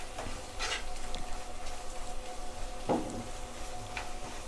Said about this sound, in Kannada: ಸ್ವಲ್ಪ ಮಿಕ್ಸ್ ಮಾಡ್ಕೊಳ್ಳೋಣ.